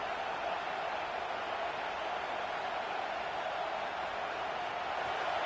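Steady roar of a stadium crowd in a college football video game, a dense continuous wash of cheering noise holding at an even level throughout with no distinct voices standing out.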